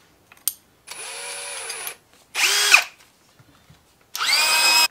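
Brand-new hammer drill in drill mode at speed 2, running in three separate bursts with pauses between: a steady high whine that spins up and winds down each time, close and loud, with a short tap before the first run.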